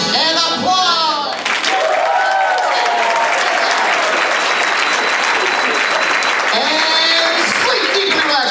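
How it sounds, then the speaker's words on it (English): A crowd in a hypnosis stage show breaks into loud, sustained applause, a thick wash of clapping that fills several seconds, with a voice speaking over it at the start and end. "And applause!"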